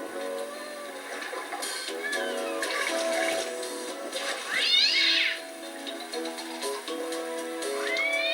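A cartoon cat meows several times in Budgie the Little Helicopter, the cries rising over a busy bed of music and sound effects.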